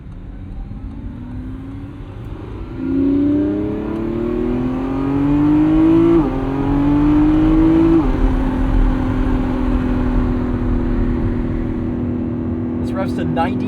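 A 2025 Lamborghini Revuelto's 1,001 hp V12 revs in Corsa mode on a night drive, climbing through three rising pulls with sharp upshifts, then holding a steady loud drone from inside the cabin.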